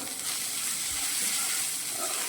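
Ground spices and kasuri methi roast in a hot pan for Lahori chole, giving a steady, soft, continuous sizzle and crackle close by, with no voices.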